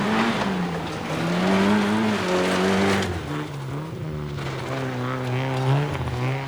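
John Haugland's Skoda rally car on a stage of the 1990 RAC Lombard Rally, its engine revving up and down through gear changes with tyre noise, close and loud, with a commentator talking over it.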